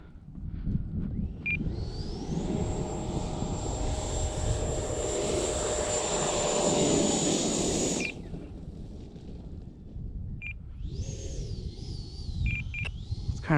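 A remote control EDF jet spools up on a runway with a loud rising turbine whine, holds a sustained roar for several seconds, cuts off abruptly, then spools up again, close by with wind noise.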